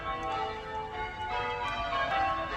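Several large bells of Blackburn Cathedral in England ring continuously on a Sunday in a dense, overlapping peal, resonant and moderately distant, with no voices.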